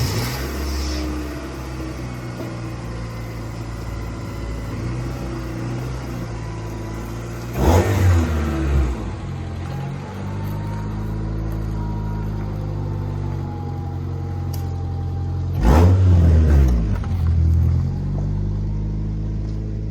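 A 1992 Honda Accord wagon with a 5-speed manual gearbox drives with a steady engine drone, rising in two loud revving bursts between gear changes, with no talking.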